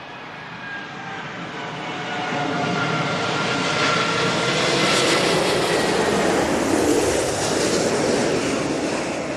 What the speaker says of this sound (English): Into the flare, smash it onto 27 left here at Heathrow.